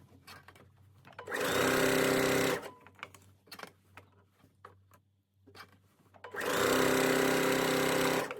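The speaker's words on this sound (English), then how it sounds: "I'm going to sew my first row of stitching about 1 centimetre away from the edge of this stitch line here" A sewing machine stitches a seam on a self-drafted midi skirt about a centimetre from the edge, with two close, loud, steady whirring runs of a second or two each and quiet fabric handling between them.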